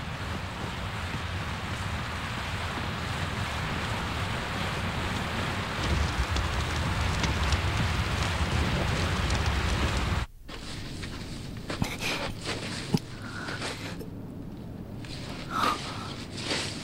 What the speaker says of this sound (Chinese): 这就是空袭之后的大雨吗？